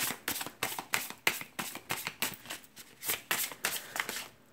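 Tarot cards are shuffled in quick, close, fairly soft bursts, a steady run of riffling flicks repeating about every third of a second with no talk over them.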